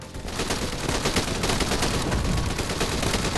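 Dense, continuous gunfire from Fire Warrior II, a mobile first-person shooter, with rapid overlapping shots packed loud and close throughout, no pauses.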